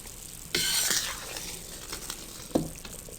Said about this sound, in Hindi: अच्छी तरह से इसमें चम्मच चलाएं।